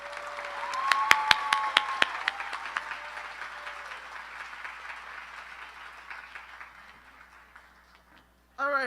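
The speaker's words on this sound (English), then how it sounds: "Please join me in giving a huge round of applause" A crowd applauds steadily at a high school graduation ceremony, with a few louder individual claps near the start, fading out gradually before a voice begins at the end.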